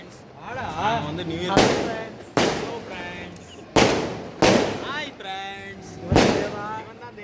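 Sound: firecrackers bursting

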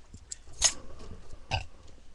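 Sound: burp

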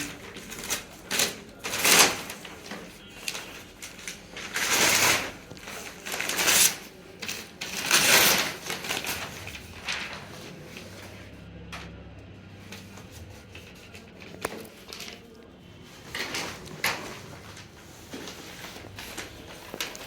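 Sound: unpacking a parcel of wall calendars

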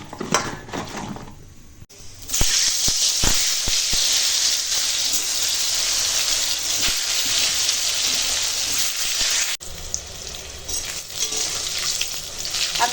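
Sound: pointed gourd (potol) frying in oil

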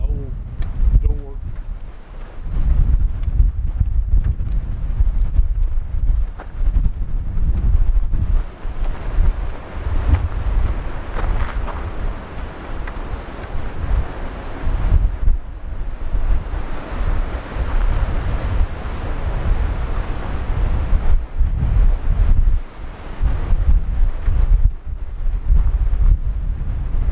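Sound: strong gusting wind

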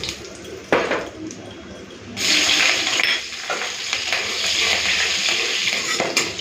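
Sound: black cumin and green chili tempering in hot oil

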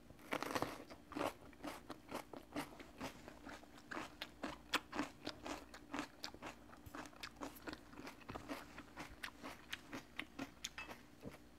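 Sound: crunchy bites of fresh paprika bell pepper

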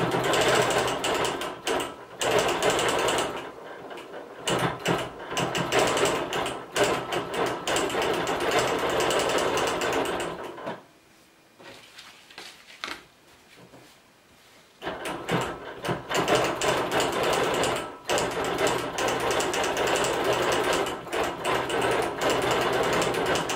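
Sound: sewing machine doing a web stitch over letters

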